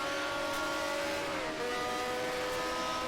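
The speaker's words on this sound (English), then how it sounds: "Let's hear Michael Janak's Ferrari V12 engine screaming in the back" A Ferrari V12 racing engine in a 1971-era Formula 1 racing game screams at high revs, a steady, sustained whine that holds nearly constant pitch with only a slight dip midway, heard alone without talk.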